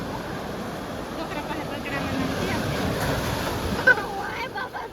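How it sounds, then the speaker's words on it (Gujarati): Sea waves wash onto the shore at night during a crab-catching outing, a steady broad roar with wind buffeting the microphone while people talk over it. "મોજા કેવા બીક લાગવા મળી એવા"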